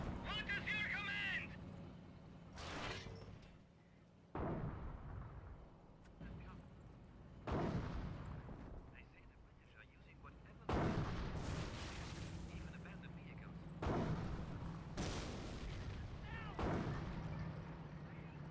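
Mortar shells and artillery booms from a Company of Heroes battle, several heavy impacts spaced a few seconds apart at moderate loudness, with a voice talking over the game sounds.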